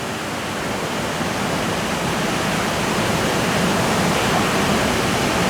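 Water rushes steadily through a long channel like a log flume at a farm's produce washing facility, a loud, unbroken roar of broadband noise throughout.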